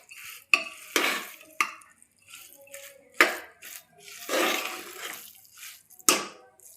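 Spoon scraping and stirring grated coconut into thick cracked-wheat lapsi in a pan, a series of sharp scrapes and soft swishes, close and fairly loud with pauses between strokes.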